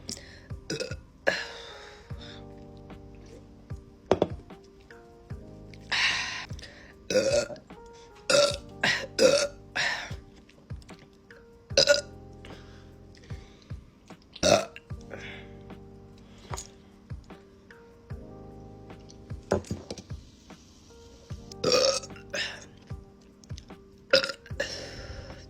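A long series of loud, drawn-out burps after drinking raspberry rosé soda, coming in close bursts with short quiet gaps, some stretched and throaty, heard up close.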